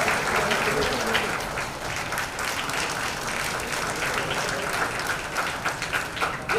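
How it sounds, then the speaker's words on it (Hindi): An audience at a Bollywood film event for the movie Beti breaks into loud, continuous applause, with steady dense clapping and crowd noise sustained throughout. "जीतू जी के लिए एक बार जोरदार तालियां हो जाए।"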